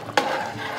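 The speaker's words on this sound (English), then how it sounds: "I want to make sure I stir the bottom of the pot so the rice doesn't stick to the bottom and burnt" A spoon scrapes around the bottom of a pot of rice and sauce, one brief stirring swish rising suddenly and trailing into a soft bubbling hiss, close by.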